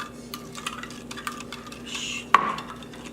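A spoon stirs 1 cup of sugar into a sweet-and-sour brine for pickled daikon radish. Soft, irregular clinks and swishes stay quiet and close, and one sharper clink against the container stands out near the end. No voices.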